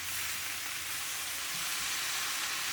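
Potatoes frying in a pan, a steady close crackling sizzle that holds evenly throughout with no talk.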